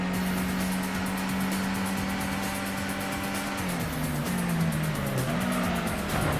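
Racing cars in the PS1 video game Gran Turismo, Clubman Cup race, with a steady loud engine drone whose pitch shifts near the end, plus tire noise, and no talking.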